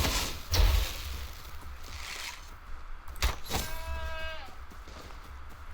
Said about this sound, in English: Injured goat.